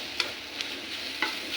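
Grated coconut stirred and roasted in a pan: soft continuous sizzling broken by three sharp scrapes of the spoon against the pan, no talking.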